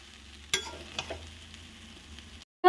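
Soya rice with garam masala is stirred in a pan over a faint sizzle, with a few distinct scraping strokes, fairly quiet and close, ending in a brief silence and a sharp final knock.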